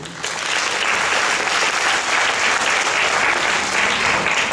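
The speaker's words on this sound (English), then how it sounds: "Can we also give a round of applause to our main sponsor?" A dense crowd applauds a main sponsor, Singer Sri Lanka PLC, at a girls' final awards ceremony. The clapping is loud, steady and unbroken from start to finish, with no voices over it.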